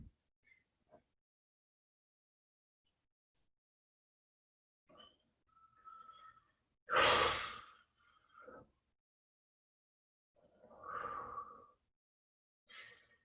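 Heavy breaths during a bodyweight bootcamp workout, with several separate breathy exhales spread out over near silence, one of them louder and fuller than the rest.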